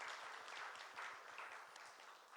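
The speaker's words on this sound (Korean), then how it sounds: "주님 앞에 감사의 박수 함께 드리시면 좋겠습니다." A church congregation at a Korean young-adult worship service applauds in thanks, a steady wash of many hands clapping at moderate distance, fairly faint but continuous throughout, with no talk over it.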